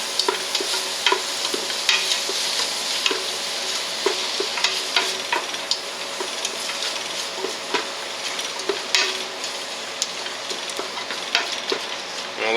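Onions stirred and sizzling in a pot for cabbage vegetable soup, a steady frying hiss with repeated scrapes and clicks of the spoon, close and moderately quiet.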